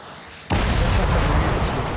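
A grenade goes off in Riddick: Assault on Dark Athena, a sudden loud close blast that cuts in abruptly and keeps roaring with dense rumbling debris noise, with no voices over it.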